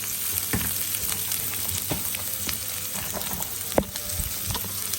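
Raw onions sizzle in hot oil in a home kitchen while Chitol fish koftas are being prepared, a steady close frying hiss broken by occasional sharp pops and stirring clicks, with no voices heard.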